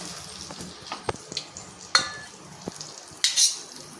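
Onion samosas deep frying in hot oil give a steady bubbling sizzle, with scattered clinks and scrapes of a slotted spoon against the pan, close and moderately loud, no talking.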